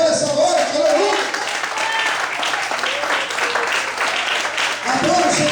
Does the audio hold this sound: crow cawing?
no